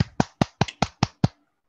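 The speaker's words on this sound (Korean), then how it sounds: "환영의 박수." A few people give welcoming hand claps in a lecture room, seven sharp, evenly spaced claps that are close and clear, then silence.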